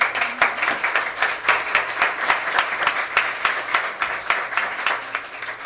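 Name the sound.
applause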